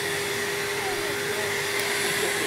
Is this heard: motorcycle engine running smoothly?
no